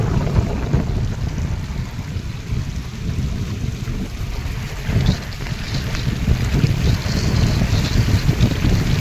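Water rushes steadily down from the Jivant dam at Chandwad, Nashik, toward Rahud village, a constant loud roar mixed with heavy wind buffeting the microphone outdoors.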